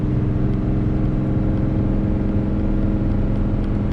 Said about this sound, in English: The truck is just chugging along.